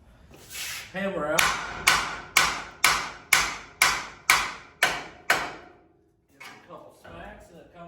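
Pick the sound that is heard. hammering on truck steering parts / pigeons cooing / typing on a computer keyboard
hammering on truck steering parts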